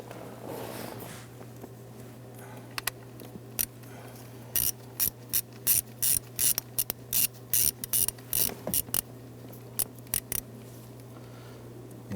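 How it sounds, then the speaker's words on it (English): Clicking bursts of a 7mm socket ratchet loosening a wiring-harness bolt on a 1994-2004 Ford Mustang during ignition switch replacement, coming in quick irregular runs over a steady low hum. "Using a 7mm socket."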